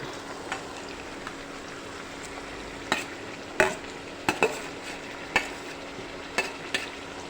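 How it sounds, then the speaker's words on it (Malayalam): Chopped ginger fries in hot coconut oil in a pan with a soft, steady sizzle, broken by scattered clicks and taps as it is stirred. "വെളിച്ചെണ്ണ ചൂടായി ചട്ടിയിലേക്ക് നമുക്ക് അരിഞ്ഞു വച്ചിരിക്കുന്ന ഇഞ്ചി കഷ്ണങ്ങൾ ഇട്ട് കൊടുക്കാം"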